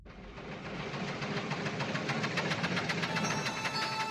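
A cartoon tractor engine runs in a steady, loud, rumbling drone with a faint rhythmic knock throughout, heard alone without talk.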